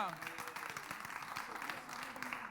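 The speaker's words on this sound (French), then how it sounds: "Est-ce qu'on peut l'applaudir encore, Emily Love?" A studio audience on a television entertainment show applauds for Emily Love, a lively, continuous clatter of many hands at moderate distance, with voices talking over it.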